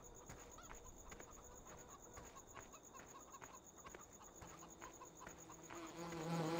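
Chickens in the Farming Simulator 2013 video game, heard as a steady insect-like buzzing drone with scattered soft clucks throughout, growing slightly louder toward the end, with no talk over it.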